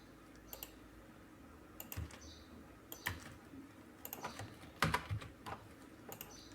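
Typing on a computer keyboard while entering a sentence in MS Word: irregular, fairly quiet key clicks in short bursts, close by, with brief pauses between keystrokes.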